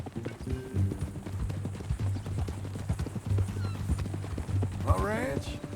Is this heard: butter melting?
no